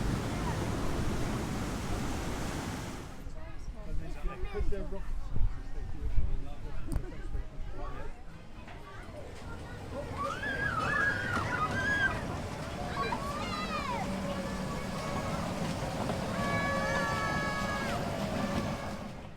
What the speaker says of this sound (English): it's our time to ride the Congo River Rapids